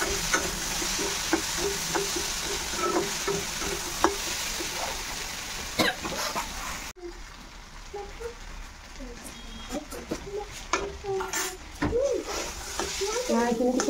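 Spices and taro frying for a dried fish curry, a steady sizzle close by with repeated clattering stirs in the pan and a voice talking now and then.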